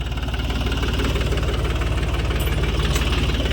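Tractor with a rotavator engaged at 540 RPM PTO speed, working a farm field; a steady, loud mid-to-low engine drone with a constant rhythmic throb, running without pause and with no voices.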